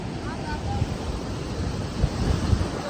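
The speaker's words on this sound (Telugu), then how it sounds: "ఇదే ఇంకా గోకర్ణ బీచ్." Sea waves at Gokarna beach, a continuous rumbling wash of surf with heavy wind buffeting the microphone.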